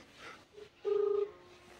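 A phone line gives a short tone during a prank call that nobody picks up, a single steady beep under faint room noise.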